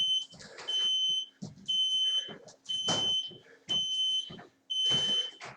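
An interval timer at a workout repeatedly sounds loud, high electronic beeps in regular bursts, each lasting about a second with short gaps between, and nobody talks.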